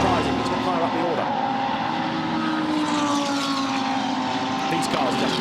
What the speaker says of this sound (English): They're big, brutal cars, different shapes, different sounds, different sizes.